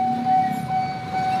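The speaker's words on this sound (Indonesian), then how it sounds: "Kereta akan masuk dua." Train approaching a railway crossing, with a steady loud rumble and a sustained warning tone running throughout, no voices.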